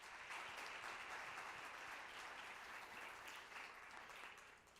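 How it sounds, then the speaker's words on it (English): Sustained applause from a conference audience welcoming a keynote speaker, dense and steady clapping throughout before tapering slightly at the end, with no talk over it. "Please welcome Dr. Campbell with a warm round of applause"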